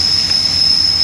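Audi A6 exhaust during DPF cleaning, with an open temperature sensor port letting out a steady, piercing high whistle over a low engine rumble, close and loud throughout.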